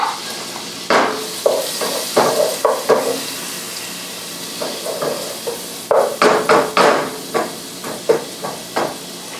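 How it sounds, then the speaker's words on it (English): Steady hiss of garlic and onion frying in a pan, with frequent sharp clinks and scrapes of a utensil against metal. "I can hear the garlic sizzling"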